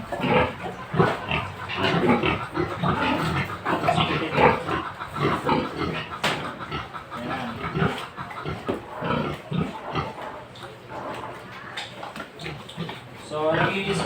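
A young female pig (gilt) in heat on a farm grunts and snorts repeatedly at close range, mixed with someone talking over the animal.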